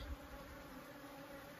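Honeybees fighting at a bait hive box on a mountainside make a faint, steady buzzing drone, a continuous low insect hum with no voices over it.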